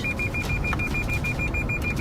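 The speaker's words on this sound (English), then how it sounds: "their Lexus starts beeping out of control" A Lexus car's sensor beeps in rapid, evenly spaced pulses at a highway intersection, a steady insistent pattern over a quiet road-noise bed.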